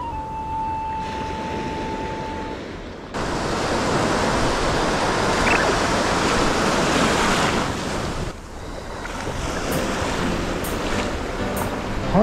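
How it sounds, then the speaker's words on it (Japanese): Sea waves roll and break steadily on a surf beach at Funka Bay, Hokkaido, with a continuous wash of surf and wind rumble that rises and falls, and no voices. "そこにさ、今波来たんだ。"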